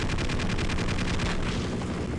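Rapid automatic gunfire from an attack helicopter in the Half-Life game, a dense, loud burst of shots in quick rhythm lasting about two seconds, with no talk over it.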